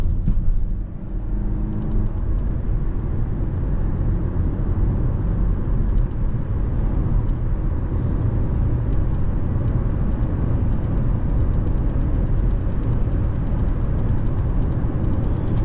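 A 2023 Kia Niro SX Hybrid accelerating up to speed onto a highway, heard from inside as a steady, loud low rumble of engine and road noise with wind, continuous and unbroken, no talking.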